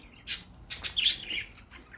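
Turtle doves near an outdoor birdcage give short, clear, high chirps, several in quick succession with gaps between, close by and with no talking.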